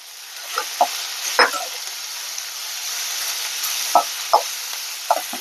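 Okra hits a hot pan already holding curry leaves and asafoetida, and a steady sizzle of frying follows. The vegetable is stirred, giving scattered spatula scrapes and taps over the continuous hiss.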